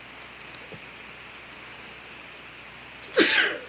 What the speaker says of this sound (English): a lot of times when I sneeze like this